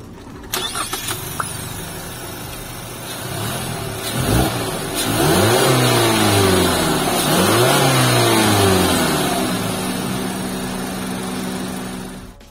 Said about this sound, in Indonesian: Mesin dari si 2500 cc NA nya ada improvement kah? Yuk kita start up dulu.